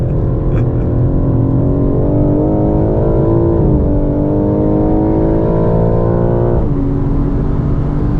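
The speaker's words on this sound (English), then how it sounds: "Natural engine noise." A 2023 BMW M4 Competition engine drones steadily on the Buttonwillow race track, harmonic revs rising and falling, including a drop around two-thirds through, loud and continuous with no talking.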